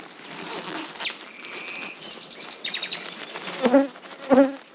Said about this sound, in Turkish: Üst katta arıları görüyorum.